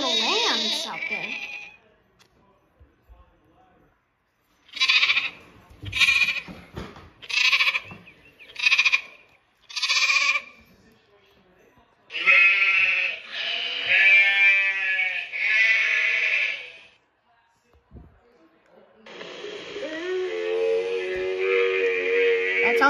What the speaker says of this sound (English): That sounds like a lot of little lambs out there.